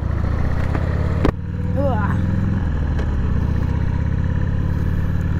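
A delivery vehicle drives past on a rural Wisconsin road, its engine rising and fading in a brief close pass over the steady low rumble of an idling Harley-Davidson Sportster 883, with someone talking.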